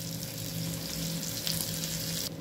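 Stuffed capsicum (shimla mirchi) frying in a pan gives a continuous close sizzle, loud and even, with no talk, cutting off abruptly at the end.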